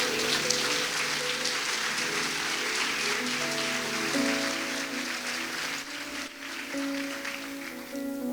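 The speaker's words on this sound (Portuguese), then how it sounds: "Dá um aplauso a Jesus." Applause from a church congregation fills the clip, a steady dense clatter of clapping over sustained music with held organ-like chords.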